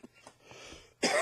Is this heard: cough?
yes